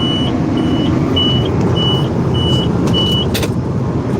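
Heavy equipment backing up on a hot day, its reversing alarm sounding steady evenly spaced beeps, about six in a row, over a loud constant engine rumble close by.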